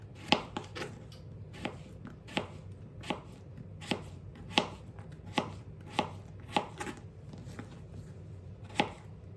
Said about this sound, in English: So I'm gonna cut these up